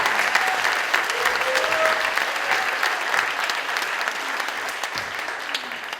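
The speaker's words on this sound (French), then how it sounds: "Je demande d'applaudir Alain et sa guitare." Steady, loud applause from a theatre audience at a variety show honoring a longtime troupe member with his guitar, many hands clapping continuously and evenly, fading slightly toward the end.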